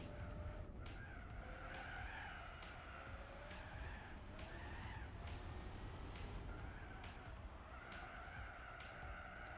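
Muscle car in Gran Turismo 4 spinning its rear wheel, a loud continuous engine roar with wavering tire squeal rising and falling through several bursts, steady and close throughout.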